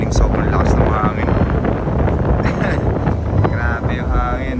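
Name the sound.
strong wind at campsite at midnight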